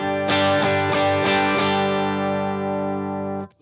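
An electric guitar chord through an Orange OR15 tube amp and PPC112 cabinet, set at the edge of breakup, is struck several times in quick succession then left to ring, thick, compressed and slightly gritty, close and loud.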